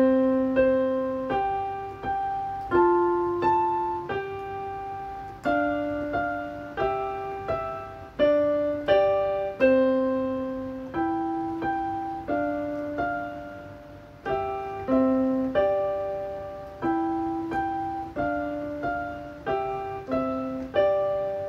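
A piano plays Twinkle Twinkle Little Star as a steady melody with chords, each note struck cleanly and decaying in an even rhythm, close and clear with no talking.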